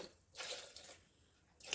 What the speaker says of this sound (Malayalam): 1 ഗ്ലാസ് വെള്ളം ഒഴിച്ചിട്ടു.